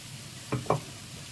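A spoon stirs ground tomato puree into a softly sizzling pan, making two quick scraping strokes over a low, faint background sizzle.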